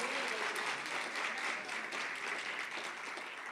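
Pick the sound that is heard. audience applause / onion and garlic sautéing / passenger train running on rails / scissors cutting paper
audience applause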